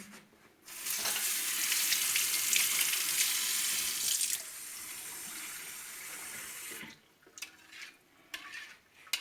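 Water runs and splashes steadily into a bowl of cacık, a Turkish yogurt dish, loud and close for several seconds, then stops, leaving quieter stirring and clinking sounds.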